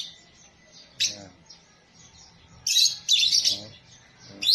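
Pet parrot chirping in short bright bursts, a few isolated calls then a cluster of sharp, loud tweets near the end, with no talking.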